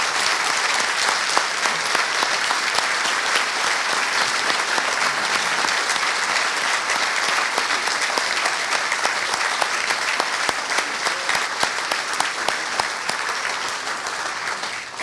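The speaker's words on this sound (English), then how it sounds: "So I'd ask you once again to just join me in a round of applause for the great soldiers who make up the Canadian Army." A large crowd at a Canadian Armed Forces appreciation evening gives a long, steady round of applause for Canadian Army soldiers, dense clapping with sharper individual claps poking through and a slight fade near the end.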